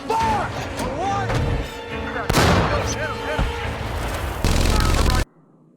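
Machine gun fire and explosive blasts from a tank battle in the war film Fury, heard as loud, dense bursts and crashes layered over music and dramatic effects, then cutting off abruptly.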